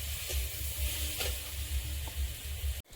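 Vegetables frying in a pan sizzle loudly as water is poured in, a steady close hiss with faint stirring scrapes, ending in an abrupt cut.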